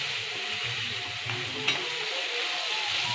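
Vegetables frying in hot oil in a pan for a vegetarian Bengali meal, giving a steady close sizzle with a brief sharp crackle partway through and no talk.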